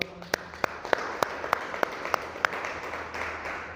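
A church congregation applauding together, with evenly spaced, rhythmic claps standing out over a steady wash of crowd noise.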